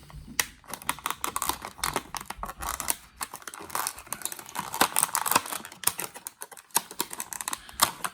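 Scissors snipping a MOTU Origins He-Man action figure free from its packaging: dense, close clicking cuts mixed with plastic crinkling and rustle, busy and continuous with no talk.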